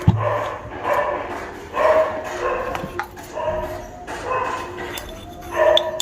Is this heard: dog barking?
yes